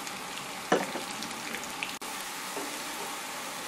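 Cassava pieces sizzling as they brown in a pan with salt, a steady close crackle of hot oil with one sharp pop near the start, no voices.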